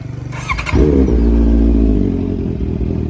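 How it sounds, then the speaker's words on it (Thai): Grey 2017 Honda CB650F motorcycle with an aftermarket exhaust starting up and settling into a steady, loud close-up idle, a brief clatter at ignition followed by a deep even rumble with no talk over it. "ฟังเสียงเครื่องยนต์"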